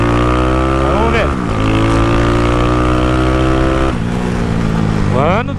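Motorcycle engine during a top speed run, loud and close, the pitch climbing through rising gear sweeps with short drops at shifts, a continuous strained whine throughout.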